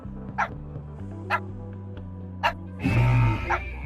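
A dog in the Minecraft Story Mode video game barks four separate times at a steady pace over a droning game soundtrack, then a louder burst of noise comes in near the end.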